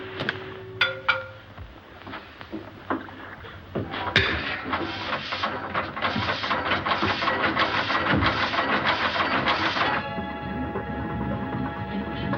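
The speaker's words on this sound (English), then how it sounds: "Stop the engine." A boat's engine runs steadily for several seconds, a continuous mechanical drone with some clinking and shuffling early on, moderately loud and heard without talk.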